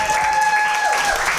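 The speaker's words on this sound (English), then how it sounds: "Let's give them a round of applause" A studio audience at a game show breaks into a steady round of applause, dense and sustained for the whole stretch, with a faint high electronic tone held over it.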